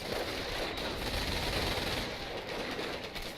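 Sustained battle gunfire from flamethrowers and riflemen in the Company of Heroes game, with dense overlapping bursts forming a steady loud wash that never lets up.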